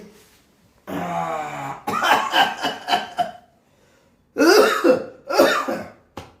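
An elderly man coughs in several harsh bursts, pausing briefly before another short fit of coughing, close and clear.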